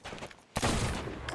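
A single heavy blunderbuss blast in Sea of Thieves, with a sharp onset followed by a dense, roaring burst of noise that lingers for nearly a second, loud and close.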